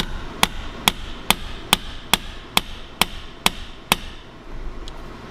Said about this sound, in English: I'll tap it in with my hammer.